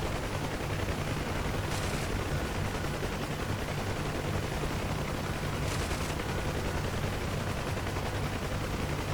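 Anti-aircraft gunfire in DCS World, fired at Cobra helicopters from a UH-1H Huey's perspective: a steady, dense rumble of distant bursts and rotor drone continuing throughout, with a couple of brief sharper crackles standing out.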